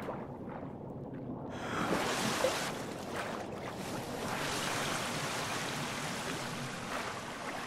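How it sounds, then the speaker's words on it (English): Wading through water in the survival video game The Forest, with a steady rushing, splashing wash of water that swells and stays loud and close throughout, no voices over it. "I'm in the water."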